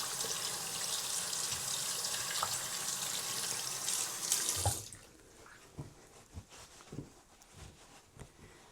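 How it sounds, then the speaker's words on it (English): Hands being washed under a running tap, water rushing loudly and steadily for about five seconds, then cutting off and leaving a few small splashes and drips. "I'm gonna wash my hands off."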